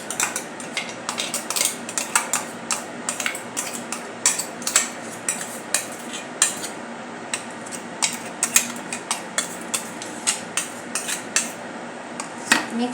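A spoon clatters and scrapes rapidly against a bowl while stirring a methi palak vada mixture of fenugreek, spinach, green chilli, garlic and ginger, making close, rhythmic metallic clinks with no talk.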